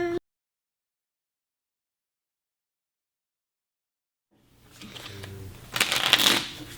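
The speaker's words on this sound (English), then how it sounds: "I'll start shuffling up the main deck." A main deck of trading cards is shuffled by hand close by, a series of rippling, riffling bursts that start after a long silence and grow louder toward the end.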